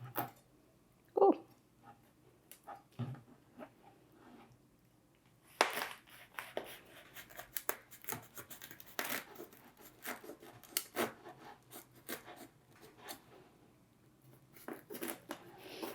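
Knife cutting through the thick skin of a fresh cacao fruit, a string of scratchy, rasping cuts and crunches, quiet and close.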